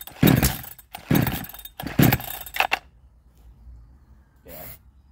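A 62cc Chinese chainsaw engine with suspected timing trouble sputters into three short loud bursts of running that die away, followed by a quieter stretch and one brief final catch.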